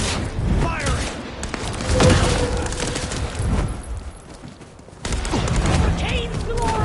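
Gunfire in Vampire Bloodlines 2, rapid close shots and bursts crackling among shouting combat voices, with a louder volley near the end.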